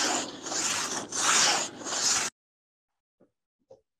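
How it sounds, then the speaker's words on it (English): A crosscut saw cuts through a tree, making three long rasping strokes in a steady back-and-forth rhythm, close and fairly loud, before stopping into near silence with a few faint ticks. "This is one of those saws that all you have to do is sort of put it in the kerf and it does the sawing."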